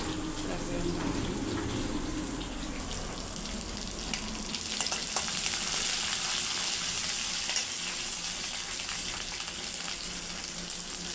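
Onion, tomato, curry leaves and a green chili fry in a pan with a steady, soft sizzle that persists throughout, with faint stirring and a quiet voice now and then.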